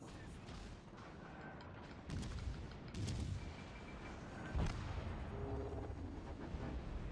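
Naval gunfire in World of Warships Legends, with a few dull booming salvos at irregular intervals over a constant rumbling sea-battle backdrop, moderately loud.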